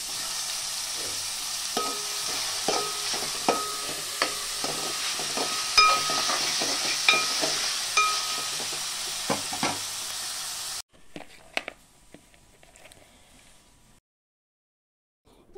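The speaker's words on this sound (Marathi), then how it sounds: "आता टमाटर घालून घेऊया. चांगलं परतवून घेऊया." Tomatoes and bean seeds sautéed with potato and cauliflower for vegetable pulao, a bright continuous sizzle with repeated spatula taps and scrapes, which cuts off abruptly into near silence with a few light knocks.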